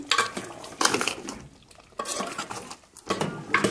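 Mutton being stirred in a cooking pot: a spoon scrapes and clatters against the metal in short, repeated bursts with brief pauses, close and moderately loud, with no talking.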